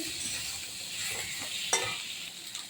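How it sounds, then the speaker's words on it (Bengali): Soybean chunks, potato and ginger stirred together in a sizzling pan, a steady frying hiss with soft scraping of the spoon and an occasional light clink. "একটু নেড়ে আদাটা একটু আলুর সঙ্গে সয়াবিনের সঙ্গে মিশে একসঙ্গে একটু মিশিয়ে নিই।"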